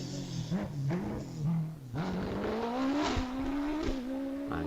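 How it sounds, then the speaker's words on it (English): A supercharged 1300 Force TA race car climbs a hillclimb course, its engine note rising and falling through gear changes over a steady loud drone, with brief chirps and surges as it powers through the bends. "Cole's making good progress with the supercharged 1300 Force TA."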